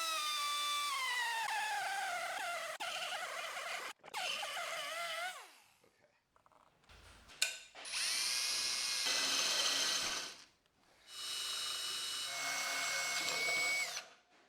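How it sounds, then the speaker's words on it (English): A burr grinder bites into the bottom of a concrete hollow-body guitar in several loud, close bursts of high whining grinding, separated by short pauses and handling noise. "So I've got this burr grinder. We're going to give that a go, grind down the bottom of the concrete here a little bit"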